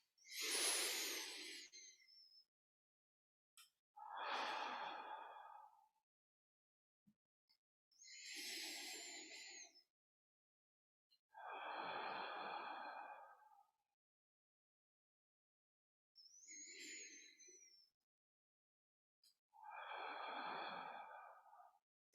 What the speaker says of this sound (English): we're going to exhale down into the earth, then inhale up into the belly for 3 breaths